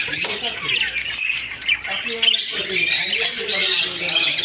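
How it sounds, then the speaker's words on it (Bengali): Japanese budgerigars in a cage, a busy close chatter of chirps and squawks over background room noise, with a person talking over them. "আর একজোড়া আছে জাপানিজ বাজরিকা পাখি"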